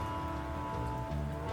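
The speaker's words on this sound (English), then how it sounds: "It's raining." Steady rain falls as continuous background ambience during a tabletop role-playing game session, a dense, even hiss with no voices and no break.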